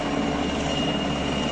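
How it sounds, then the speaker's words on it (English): A Polish military helicopter flies over the border with a steady, dense rotor and engine roar that stays constant and fairly close throughout, with no voices. "the sight and might of a Polish military helicopter"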